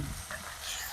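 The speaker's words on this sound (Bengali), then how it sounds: "আদা রসুনটা ভাজা হতে থাকবে একটু" Ginger-garlic paste fries in hot oil in a pan while chicken kosha is being made. It gives a soft, continuous sizzle, faint and close, with no talking.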